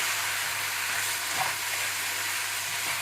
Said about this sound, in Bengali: এই পর্যায়ে আমরা প্রায় 3-4 মিনিট মতো আমরা স্টির ফ্রাই করার পরে আমরা মাংসটা দিয়ে দিলাম